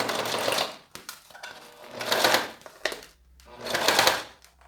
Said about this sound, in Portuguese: Venho costurando.